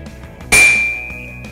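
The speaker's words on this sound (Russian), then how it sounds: "Давайте послушаем, как звучит наковальня." A single sharp metallic clang as a hammer strikes an anvil in a modern forge, followed by a bright, sustained ringing tone that slowly fades.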